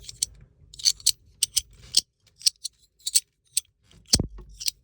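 Sharp, crisp metallic clicks from a titanium fidget toy in irregular bursts, close and fairly quiet, with brief silences between them.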